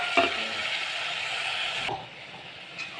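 Potatoes and peas frying in a pan for an onion dosa filling, a steady sizzling hiss with a stirring knock, then quieter frying after a sudden drop in level.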